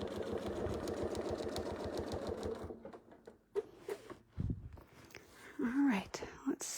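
A sewing machine doing free stitching runs at a rapid, steady pace for a few seconds, then stops, leaving scattered handling clicks and a nearby voice speaking softly.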